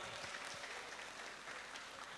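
Applause for a music group at a stage performance event, a steady, even wash of clapping from a crowd, distant and fairly quiet, continuing throughout.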